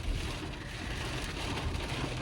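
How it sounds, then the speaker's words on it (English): Heavy rain pounding on the roof and windows of an electric car during a delivery drive, heard from inside the cabin as a continuous loud roaring wash with no talk over it. "It's so loud, the rain."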